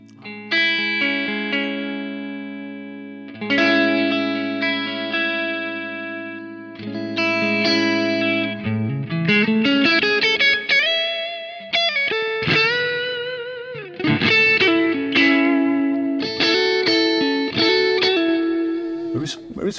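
Electric guitar played through an AMPWORX amp with reverb, sustained chords and then bent single notes ringing out with a sparkly, spacious tail, played alone and up close.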